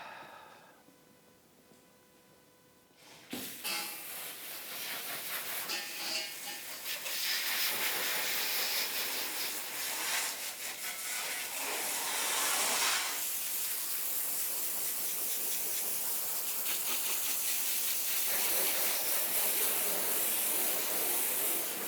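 Water spray rinses down an old Plymouth car, a steady loud hiss starting abruptly after a few seconds of quieter background and continuing throughout, swelling slightly as the stream moves over the body.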